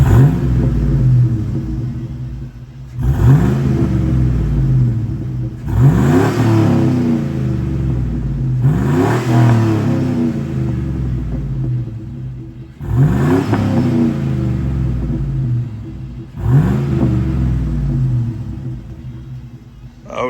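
A 2003 Chevy Tahoe V8 with a 2.5-inch electric exhaust cutout, revved in five or six deep, rumbling bursts that swell and fall back to idle, heard close from the side of the truck.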